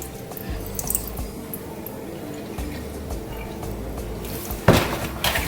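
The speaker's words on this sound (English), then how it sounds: "Make sure you drain out all the water from it." Water drains out of freshly washed raw chicken in soft drips and trickles, with a brief louder splash and squish near the end, close by and without speech.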